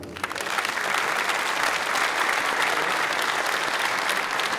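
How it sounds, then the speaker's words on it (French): A crowd at a French sport and business event applauds its technical and security staff, the clapping building quickly into a thick, even wash of sound that holds steady throughout. "Je vous demande de les applaudir"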